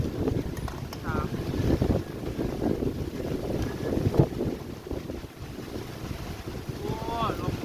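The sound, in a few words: strong wind blowing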